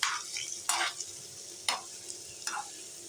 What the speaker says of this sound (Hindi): इस तरह से आपने छोटी चम्मच लेकर ना इसको पलट लेना है।